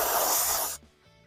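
An aerosol can sprays paint onto a Protoform Mazda FWD model car body, a loud close hiss that runs steadily for most of a second before cutting off abruptly.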